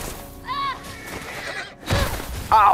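A horse in The Last of Us Part II neighing shrilly after being shot, several loud whinnies broken by a brief crash and hoof noise, with a voice briefly in between.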